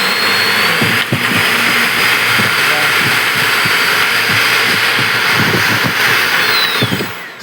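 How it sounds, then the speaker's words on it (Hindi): A homemade model jet engine runs with a loud, steady broadband roar and high whine throughout, with faint talk underneath. "जेट इंजन को इन्होंने स्वयं बनाया है।"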